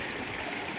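A hillside waterfall and stream pour steadily beside a slippery hill trail, a continuous broadband rush of water filling the clip without a break and with no voices over it.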